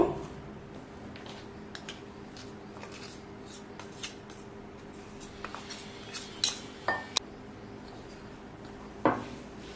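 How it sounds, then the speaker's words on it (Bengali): Crushed chanachur powder being mixed with spices in a bowl for mini kachori filling: sparse metallic clinks and light scrapes of a spoon against the bowl, close and fairly quiet, with a few sharper knocks near the end and no talking. "মশলার সাথে চানাচুরের গুঁড়োগুলোকে খুব ভালোভাবে মিশিয়ে নিচ্ছি"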